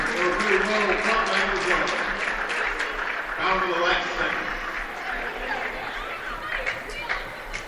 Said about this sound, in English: A big applause from their fans for such a great season.